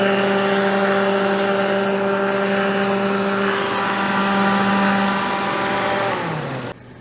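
A Daihatsu Charade engine, swapped in and leaking at an exhaust joint, runs steadily with its radiator fan whirring along, a constant tonal hum that drops in pitch and cuts off near the end.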